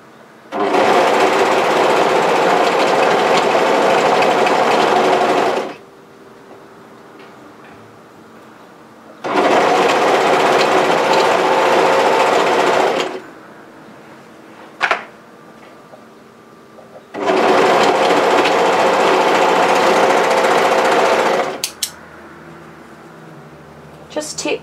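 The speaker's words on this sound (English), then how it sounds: "we want to overlock all the way to the other side." An overlocker runs a seam on a relaxed-fit sweatshirt in three long, loud bursts of steady whirring, each several seconds long, with quiet pauses between them and small handling clicks.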